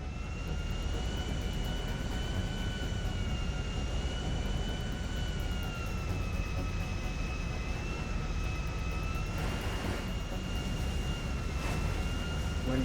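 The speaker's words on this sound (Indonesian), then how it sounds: "kalau cuman di GTA doang pesawat tuh dia bisa mundur sendiri gitu" A jet airplane in the video game GTA Online, from the Cayo Perico heist, moves in reverse on the ground with its engines droning steadily, a loud constant whine with a faint higher tone throughout.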